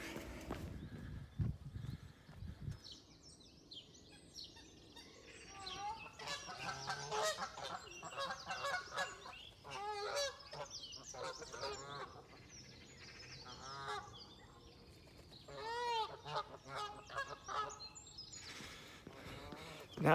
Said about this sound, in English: Now, the Canada geese are always pretty noisy